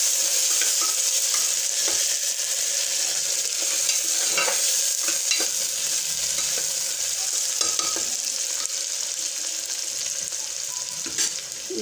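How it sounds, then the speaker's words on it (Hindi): Chopped onion tipped into a pan and stirred while cooking chana dal with turai, a steady broad sizzle with repeated scraping stir strokes throughout, close and loud, no voices. "कटा हुआ प्याज को हम डाल देंगे। डाल के इसमें अच्छी तरीके से चला लेंगे।"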